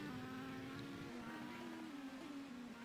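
An IndyCar race car engine in a racing video game on the St. Petersburg circuit hums at a steady, slightly wavering pitch, buzzy and sustained for a few seconds, with no speech.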